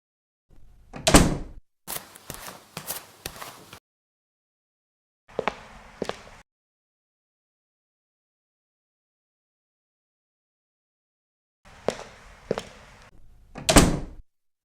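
A door closes in the video game Simple Sandbox 2: separate bursts of knocks, creaks and a final solid thud, with silent gaps between them.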